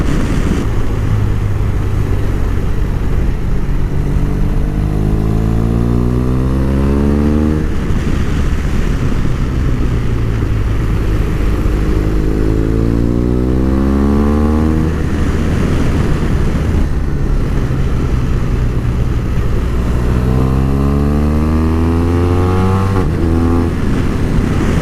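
A BMW R 1200 RS motorcycle rides through corners on a damp mountain road, its engine loud and close throughout, repeatedly rising in pitch under acceleration and falling back as it slows for each bend.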